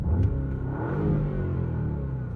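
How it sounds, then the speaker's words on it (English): A 700-horsepower Porsche engine revs with a deep, throaty sport exhaust note, rising and holding a rumbling growl up close. "Oh, it has a sport exhaust."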